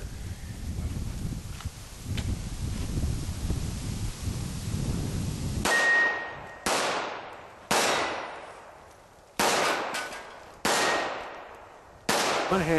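Gunshots striking steel pepper popper targets: after a stretch of windy rustling, six sharp, separate impacts ring out at uneven intervals, each one followed by a ringing decay, with no talking.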